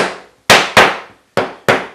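Hammer taps seating the parts of a Hock shoulder plane kit, five sharp close knocks in two uneven pairs plus a single strike, each decaying quickly, with no talking.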